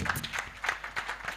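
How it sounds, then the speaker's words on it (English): Audience applause at a national dialogue event on democratic governance in Uganda: a short burst of scattered, moderately loud hand clapping from a crowd. "Clap for yourselves."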